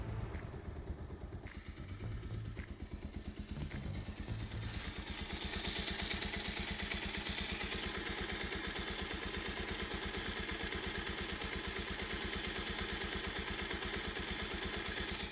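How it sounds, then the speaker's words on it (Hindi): A Bajaj Pulsar 125 motorcycle engine idles close by with a steady, rapid low chug and mechanical clatter, loud and continuous with no talking. "तो ये थी इंजन की आवाज़।"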